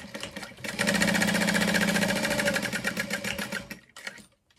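A sewing machine runs steadily stitching backpack fabric pieces, a fast even mechanical whir and needle chatter lasting several seconds before slowing and stopping.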